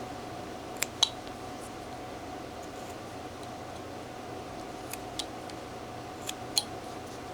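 A knife whittles a small three-inch figure from a block of wood, cutting around the elbow and upper arm, making a few faint, scattered clicks and scrapes against a steady quiet background hiss.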